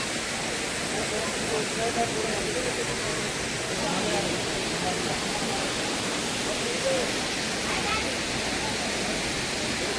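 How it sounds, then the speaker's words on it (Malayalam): An artificial waterfall in a garden built from waste materials gives off a steady, even rush of falling water that fills the scene without pause. "അവിടെ ഒരു കൃത്രിമമായിട്ടുണ്ടാക്കിയ ഒരു വെള്ളച്ചാട്ടമുണ്ട് നമ്മളത് കാണാൻ പോവുകയാണ്"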